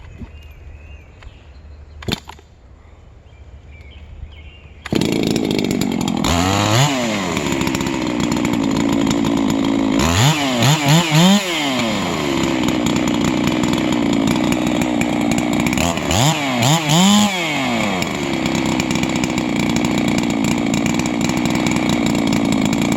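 Hypo 99cc MS 660 chainsaw making test cuts. A brief quiet start gives way to a loud, close engine that runs steadily, with the pitch swooping as the throttle rises and falls through three cuts. No talk.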